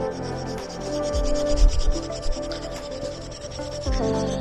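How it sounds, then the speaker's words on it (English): Wire wool loaded with Auto-Sol polish rubs rust off a Pioneer XF125 motorcycle, making steady, close, fairly loud scrubbing strokes with a coarse rasping texture and no voices. "I think this wire wool is almost at the end of its life."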